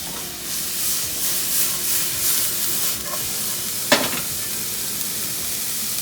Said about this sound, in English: You need to stir it around in the pan or use a spoon and go ahead and stir it.